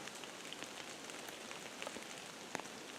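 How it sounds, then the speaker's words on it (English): Rain patters steadily on leaves and surfaces in dark woods during deer season, a soft, even hiss dotted with occasional louder drips. "It's dark, dreary, and raining."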